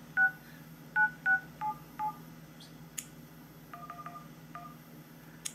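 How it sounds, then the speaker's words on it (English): Touch-tone dialing beeps from a Sony Xperia arc S smartphone, a quick run of five keypresses then a second burst of five, each short and clear over a quiet room hum. "Just gonna call a pizza place just to show that the phone does work."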